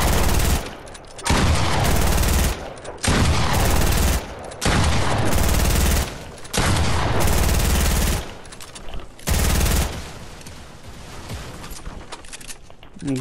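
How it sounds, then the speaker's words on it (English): Bursts of automatic gunfire in Fortnite during a shooting practice session, five or six loud sustained volleys separated by short pauses, close and punchy with no voices. "You're gonna wanna practice on shooting guns a little bit."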